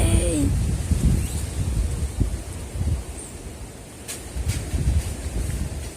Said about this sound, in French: Je suis obligé de résister tellement que le vent est puissant